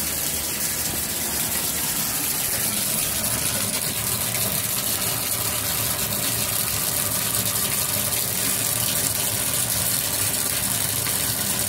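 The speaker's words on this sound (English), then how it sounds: "Now it's really draining." Water rushes steadily down a bathtub drain just cleared of a solid clog, a continuous loud gushing and gurgling wash that holds even throughout with no talk.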